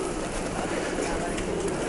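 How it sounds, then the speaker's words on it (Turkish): Pigeons coo at the Japon Pazarı market in snowy Yozgat, Turkey, their soft calls blending into a dense, steady wash of outdoor ambient noise. "Japon pazarında güvercinlerin görüntüsünü hepimiz biliyoruz."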